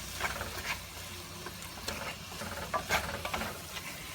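Ground meat with cumin is broken up and stirred in a pan, giving quiet sizzling and irregular scraping and tapping of a utensil, close and faint.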